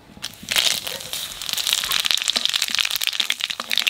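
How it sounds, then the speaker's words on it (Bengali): Cumin seeds and bay leaves crackle and spit in hot oil, a dense, steady sizzle of close popping that builds after the first half second and keeps going, with no talking. "তেলের উপর দিয়ে দেবো জিরে তেজপাতা"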